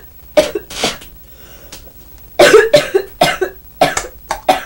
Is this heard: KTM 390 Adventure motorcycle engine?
no